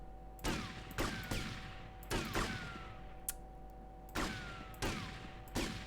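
Gunshots in GTA ring out in sharp single reports, about seven spaced shots with echoing tails over a steady game hum, fairly loud and close.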